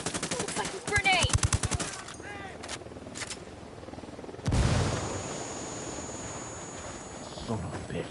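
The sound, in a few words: gunfire in video game Ghost Recon Wildlands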